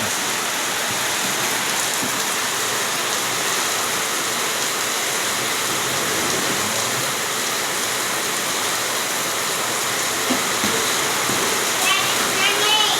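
Steady rain falling outdoors, a dense, even hiss of water with scattered splashes and patter holding throughout, fairly loud and constant, with faint talk beneath it.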